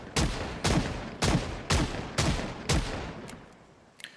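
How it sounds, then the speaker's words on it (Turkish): Six loud, evenly spaced gunshots from a toy cap gun in the Project Zomboid video game, each a sharp .38 revolver-style report with a short decaying tail, followed by faint clicks at the end. "Şu an sesleri 38 kalibre revolver sesi çıkıyor yani bayağı sesli bir oyuncak silah şu anda."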